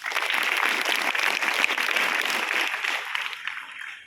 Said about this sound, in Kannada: ಚಪ್ಪಾಳೆ ಹೊಡೀರಿ ಅವರಿಗೆ